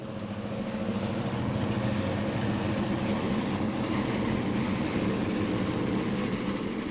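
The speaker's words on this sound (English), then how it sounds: "This mail train is heading toward the industrial zone of our layout." Model railroad mail train running on an HO scale layout, giving a continuous close rumbling and clattering roll that holds steady throughout with no talking.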